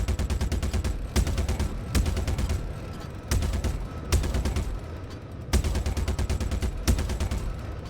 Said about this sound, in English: I'll just put the Gatling on this guy.